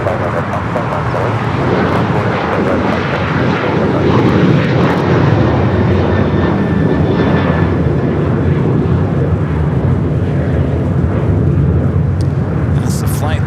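An airliner takes off from runway 25 right at LAX, its jet engines producing a loud, sustained broadband roar that continues throughout, with a voice faintly audible beneath it.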